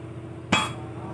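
A single sharp metallic strike from a small hammer tapping motorcycle engine valve parts, close and brief with a short ringing tail.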